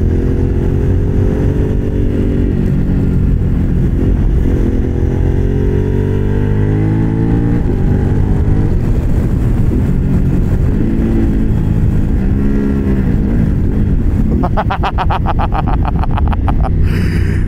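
A Thrike Xcape 1200 motorcycle with a V-twin engine revs hard and loud up close, its deep throbbing note rising and falling through repeated throttle blips before a sharp, rattling high rev near the end.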